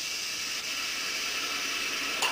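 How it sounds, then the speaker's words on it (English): Red wine poured into a hot pan sizzles with a steady, soft hiss that holds evenly, ending with a brief sharper crackle near the end. "So, a bottle in a hot, nice pan, we want to sizzle right away."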